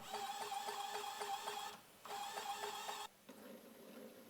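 A small geared motor salvaged from an old printer, run on 5 V, whirs with a fast ticking gear rhythm as it turns a threaded rod, stopping briefly twice before running again.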